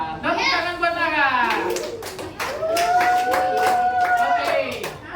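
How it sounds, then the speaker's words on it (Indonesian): Children clap their hands for a classmate named Tara in a school classroom, scattered, quick claps under loud, overlapping children's voices, some with sustained vocal tones. "Tepuk tangan buat Tara."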